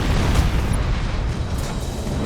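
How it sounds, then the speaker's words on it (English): A ship explodes in the space combat game Battlefleet Gothic Armada 2, a loud, dense, rumbling blast that fills the whole short stretch with low booming roar and no voices. "Something just blew up."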